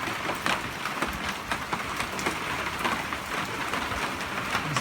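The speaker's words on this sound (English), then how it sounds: "It seems like this year we are getting more rain than usual," Heavy rain from a Southern California storm falls on a backyard, a dense, steady patter with scattered louder drips. It sounds fairly close, and no one speaks.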